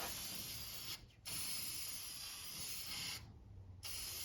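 An aerosol spray can nozzle coats the underside of a farm truck, giving a steady, close hiss that breaks off briefly twice in short pauses between bursts.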